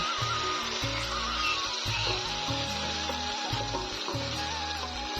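Marinated pabda fish frying in a pan with onions, a steady sizzle running under a loud tonal melody that sounds like background music or bird calls, with no talking.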